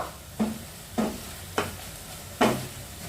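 Cumin powder, salt and Kashmiri chilli powder stirred in a pan for a mixed vegetable dish, four distinct spoon scrapes spaced about a second apart over a low sizzle, no speech.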